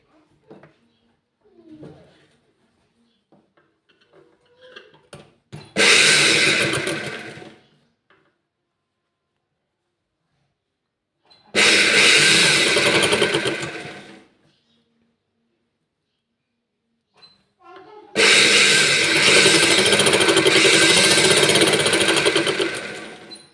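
A sewing machine runs a straight seam on a blouse in three bursts of several seconds each, separated by quiet pauses; brief soft talk comes before the first run.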